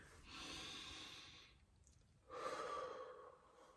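Two slow, close breaths, each a long airy inhale and exhale separated by a short pause, quiet and alone.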